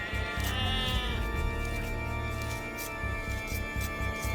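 Sheep bleat in Age of Empires II: Definitive Edition, a loud wavering cry with several overlapping bleats over the game's steady background, with no talk.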